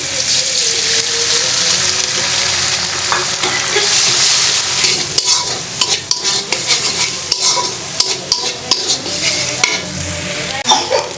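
Eggs and tomatoes fry together in a pan, a loud, close, steady sizzle with repeated spatula scrapes and clicks, especially dense in the second half.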